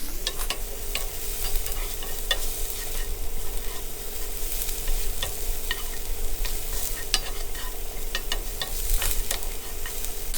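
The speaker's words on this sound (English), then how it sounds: "So see how they're sauteing, cooking down a little bit" Onions for cheddar-stuffed meatballs sauté in butter in a pan, making a steady close sizzle with frequent sharp ticks and spatters, no talking.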